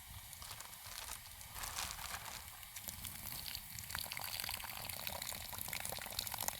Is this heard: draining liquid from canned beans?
yes